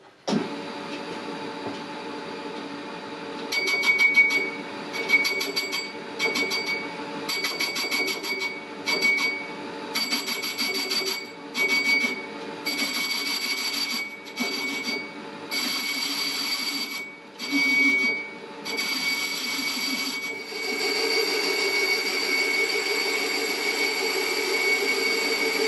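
A Jones and Shipman 540 machine turning down a pulley part held in a steady rest, a steady mechanical whir with bright high-pitched tonal cutting whine that stops and starts in repeated passes, close and continuous over about twenty-five seconds.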